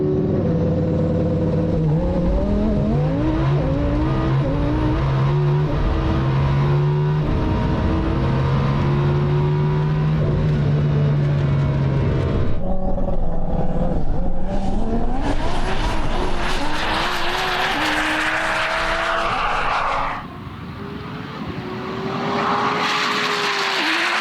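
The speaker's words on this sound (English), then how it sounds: "Returning to Cootamundra Airport for the second time was Ashraf's Lamborghini Huracan, being driven by Massimo." A twin-turbo Lamborghini Huracan supercar blasts down an airport runway at a no-prep drag event, its engine loudly rising through gear changes, then roaring past and fading before another surge.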